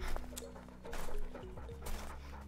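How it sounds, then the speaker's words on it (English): A dog in the Bloodhounds video game pants quietly nearby in short rhythmic breaths, mixed with soft game sounds, faint clicks and drips, with a low steady hum underneath. "I love hearing the dog panting beside me."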